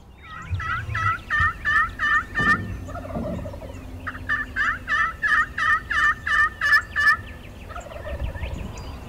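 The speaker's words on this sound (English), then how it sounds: "Once the sun began to come up, the gobblers really started talking." Wild turkey gobblers gobble loudly at sunrise in two long rattling bursts, each a rapid series of throaty gobbles, with softer calls and background noise between.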